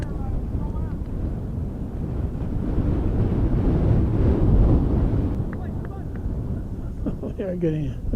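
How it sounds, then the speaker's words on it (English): Gusty wind buffets the microphone at an outdoor high school baseball game, a steady low roar that swells loudly around the middle and eases off, with brief faint voices near the end. "We're getting a gust here. A gusty gust of wind."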